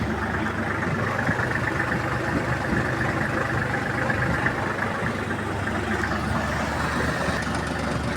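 A Kubota GL-21 Japanese mini tractor fitted with a rotary tiller runs in third gear, its engine giving a steady, loud, close mechanical drone that holds evenly throughout.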